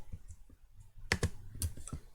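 Mouse clicks while selecting edges in FreeCAD on a computer, a handful of sharp, close clicks in irregular succession with light desk handling noise between them, no talking.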